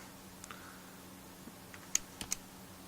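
Sparse, quiet keystrokes on a computer keyboard while code is written on a Raspberry Pi, a few isolated clicks spread out with two sharper taps near the end and no talking.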